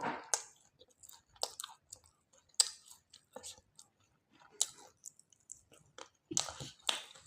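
Someone chews chhit ruti, a homemade flatbread, in close, intermittent crunchy bites with soft mouth clicks and quiet pauses between.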